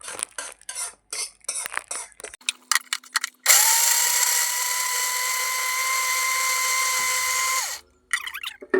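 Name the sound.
mixer grinder jar grinding gravy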